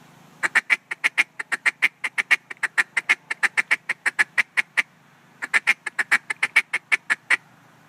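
A duck call blown in a rapid run of short clucking notes imitating ducks feed calling, about two dozen crisp bursts, a brief pause, then another quick series, close and clear with no talking.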